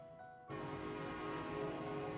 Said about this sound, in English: that train is fucking loud